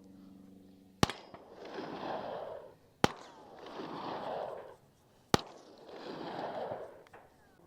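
Three suppressed shots from a handgun fitted with a CGS Kraken or Mod 9 subcompact suppressor, each a sharp crack followed by a rushing whoosh, spaced about two seconds apart at moderate loudness.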